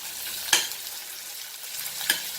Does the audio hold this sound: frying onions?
yes